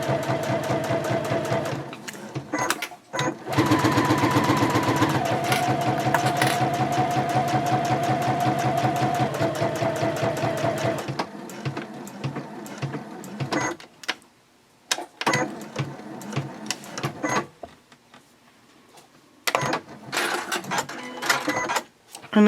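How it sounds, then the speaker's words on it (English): A sewing machine stitches a seam on a clear vinyl pouch, running in long steady bursts of rapid needle clatter, with stops and short restarts between them. "I always do start from the bottom where the folds are, because I don't want them to shift out of place as I'm sewing along"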